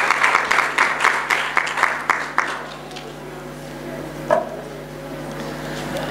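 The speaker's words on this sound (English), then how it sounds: "the whole room clapping for Bekwe coming up" A room of participants at the Caribbean Girls Hack 2019 event claps for a team coming up, a burst of rhythmic, fairly close clapping that fades after a couple of seconds into quiet room hum with a single stray knock.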